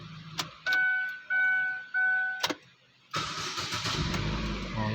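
A 2013 Chevrolet Aveo engine cranks in three short, even bursts with clicks around them, then catches and settles into a steady idle that is close and loud.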